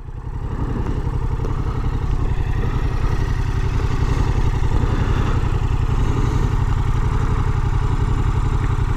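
A Yamaha MT-07 Tracer's CP2 twin-cylinder engine idles close up, producing a loud, steady, rapidly pulsing low throb with some mechanical clatter that continues unbroken, with no voices.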